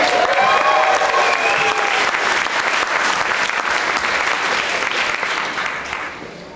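Convention audience at a Killer Klowns From Outer Space cast Q&A applauding loudly and steadily, with scattered cheers from a full crowd that tails off slightly toward the end.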